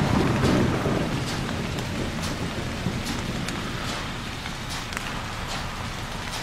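Steady heavy rain pours on surfaces during a thunderstorm in the horror game Haunt, with faint rumbles of thunder rolling underneath, continuous and fairly loud throughout with no voices.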